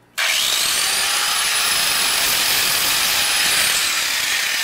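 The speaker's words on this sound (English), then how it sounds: "a flap wheel. It's basically sandpaper on a grinder wheel, basically." An angle grinder fitted with a flap wheel cleans up cut metal during a Club Car golf cart engine swap, starting abruptly into a loud continuous high whine and gritty hiss, close and steady throughout.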